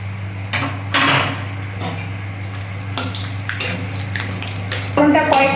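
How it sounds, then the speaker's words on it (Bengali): Whole garam masala and bay leaves sizzling in hot oil for a bottle gourd and egg curry, a steady frying crackle with a constant low hum and scattered louder spits, no talk. "আমি এখানে গোটা গরম মশলা তেজপাতা ফোড়ন দিয়ে দিচ্ছি"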